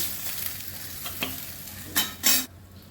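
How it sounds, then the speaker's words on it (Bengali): Dried red chillies, a bay leaf and nigella seeds tempered in hot mustard oil crackle softly in a pan, with a low steady sizzle broken by a few sharper pops and bursts near the end. "দুটো শুকনো লঙ্কা ফোড়ন করছি, তেজপাতা ফোড়ন করছি, কালো জিরে।"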